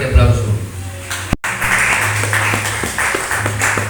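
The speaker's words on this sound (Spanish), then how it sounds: "Yo creo que le des un fuerte aplauso." A church congregation claps throughout, with sustained applause mixed with voices and a low hum, and a brief dropout partway through.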